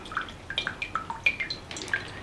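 Water drips from a freshly soaked Pilea peperomioides plant, a quick irregular patter of small close drops, faint and alone.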